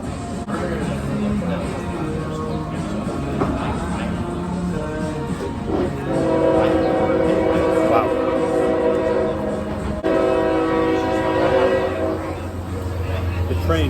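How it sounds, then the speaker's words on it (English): Train passing near a BurgerFi restaurant, a sustained loud rumble with a horn sounding in steady tones through the middle and end, under a busy background of chatter. "The train is getting in the way of the sound."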